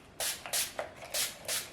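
Several quick bursts of a face mist spray bottle, a replacement for a Tower 28 spray, hiss close to the mic in short pulses about every third of a second, with no one talking.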